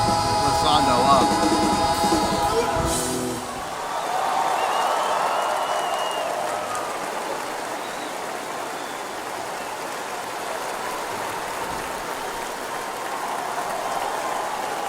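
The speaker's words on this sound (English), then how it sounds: "It was just people clapping" A crowd claps in a steady, rain-like wash of applause at the close of a performance, following a fading musical passage, moderately loud and continuing to the end.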